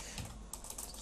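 Quick run of computer keyboard keystrokes while coding in Java, several light clicks in a brief burst, close and fairly quiet over a soft room hiss.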